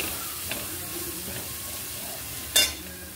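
Chicken masala with a roasted onion and coconut paste sizzles and hisses steadily in a pan while being sautéed. One sharp metallic clink of a spoon stands out near the end, close and clear.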